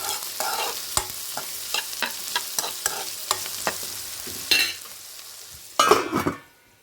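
Onions and capsicum stirred in a hot pan, a spoon scraping in a run of sharp, regular clicks over a low sizzle, ending in a louder burst of frying and a final scrape.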